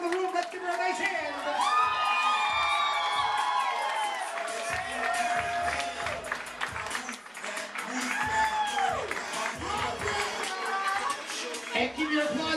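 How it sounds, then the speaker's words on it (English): Wedding guests at Independence Harbor clapping, cheering and whooping for the newlyweds as a DJ announces them, a loud continuous crowd roar with shouts throughout and the DJ's amplified voice over it. "Once again, keep your applause going, our newlyweds, Mr. and Mrs. Michael Higgins."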